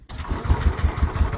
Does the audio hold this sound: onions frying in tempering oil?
no